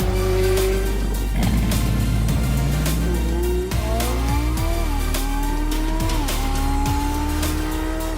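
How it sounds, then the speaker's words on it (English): Multimillion-dollar supercars roaring past with rising and falling engine notes, sharp gear-change dips and squealing tyres, loud and continuous, as if on a track. "when you hear the engines roar"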